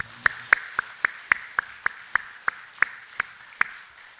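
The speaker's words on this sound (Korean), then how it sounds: "우리 하나님께 영광의 박수 한번 합시다" A church congregation claps in a steady, slow rhythm, about a dozen distinct sharp claps spaced evenly, fairly faint and with no talking over them.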